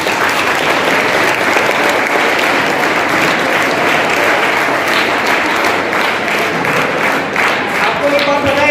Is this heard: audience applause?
yes